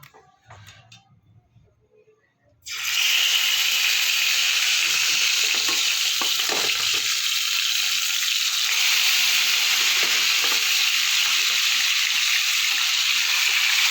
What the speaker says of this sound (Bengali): তেলটা আমি গরম করতে বসিয়ে দিয়েছি মাছগুলো আমি এবার ভেজে নেব